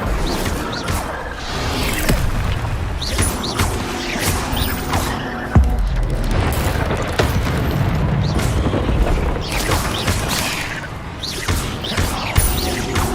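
Fire spell Incendio cast repeatedly in Hogwarts Legacy, a continuous dense rumble of booming, whooshing bursts with crash-like impacts, loud and sustained throughout with no quiet gaps.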